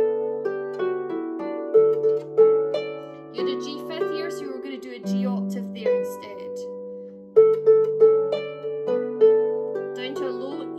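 A harp plays a Scottish Gaelic tune, Fac' thu na Fèidh, using octaves rather than fifths, with plucked notes ringing in a steady, moderate rhythm and brief pauses between phrases.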